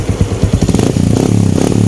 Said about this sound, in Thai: ท่อไอเสียก็มีผ่าแต่งมาแล้วนะครับ เสียงมันจะทุ้มๆหน่อย